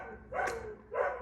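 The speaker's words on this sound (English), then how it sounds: "my dog is barking at the neighbors" A small dog barks twice outdoors at neighbors mowing grass, two short sharp bursts a half second apart, fairly close and alone without talk.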